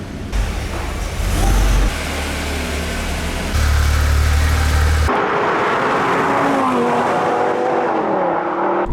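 A Lamborghini Gallardo LP550-2 with a manual gearbox and right-hand drive, its engine loud and close, revving and rising through gears before settling into a steadier droning pitch.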